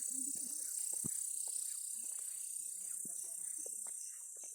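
Crickets chirp at night as a steady high-pitched drone on a muddy walking path, with a person's quiet talk and footsteps heard intermittently beneath the continuous insect chorus.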